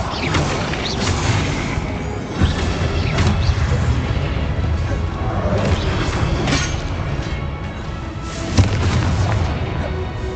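Incendio fire spell cast in the video game Hogwarts Legacy: repeated booming bursts of flame and impacts over dense combat noise, several stronger hits spread across the stretch, with no talk.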